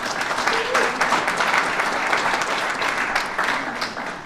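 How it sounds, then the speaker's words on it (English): Groundbreaking ceremony crowd at 79 W. Monroe applauding host Gary Stoltz, a full burst of close, dense clapping that stays strong throughout, with no speech on top. "Let's give him a round of applause"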